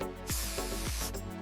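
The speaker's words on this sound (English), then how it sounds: "So the first step is to get some penetrating oil on these guys." Penetrating oil sprays onto 40-year-old rusted bolts near a removed brake caliper during a car restoration: a close, steady hiss running almost continuously with brief dips, heard alone.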